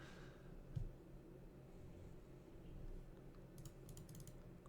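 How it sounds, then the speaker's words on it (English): Soft mouse and button clicks from someone playing a computer card game, faint and scattered, with a brief quick cluster of clicks near the end over a low background hum. "Fun clicking buttons"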